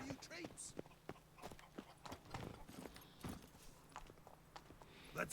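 Hoofbeats from Roach, Geralt's horse in The Witcher 3, thud in an uneven clip-clop pattern across the clip, mid-distance and moderately loud, with a voice talking over them.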